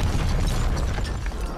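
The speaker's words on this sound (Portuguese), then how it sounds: "acaba de ter uma explosão federal aqui" An explosion in the zombie shooter video game World War Z, heard as a loud sustained rumbling boom that fills the short stretch without a break.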